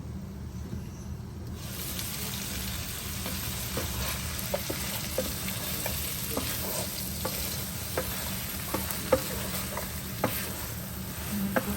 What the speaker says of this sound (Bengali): ব্রোকলি ধুয়ে রেখেছিলাম, ওগুলি দিয়ে একটু কষিয়ে নেব।